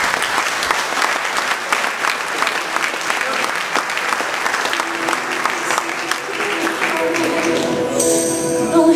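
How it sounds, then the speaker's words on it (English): Loud, sustained applause from a large crowd, dense clapping filling the whole stretch, with some higher-pitched tones creeping in near the end. "Give yourself a big round of applause."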